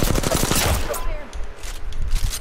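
Rapid bursts of gunfire from a tactical shooter video game, loud and dense at the start, then thinning to scattered shots and distant rumble.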